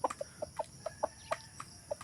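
A chicken gives a string of short, soft clucks in an uneven rhythm while pecking at food on a farm, close by and moderately loud, with no talking.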